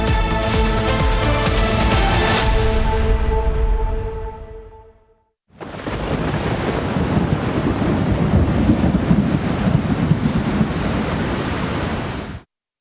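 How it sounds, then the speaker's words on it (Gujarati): Heavy monsoon rain pours down in Vaso, Kheda, Gujarat, a dense hissing roar that fills the second half after a brief silent gap; the opening part fades out beneath tonal sounds. "સૌથી વધુ ખેડાના વસો પંથકમાં વરસાદ પડ્યો"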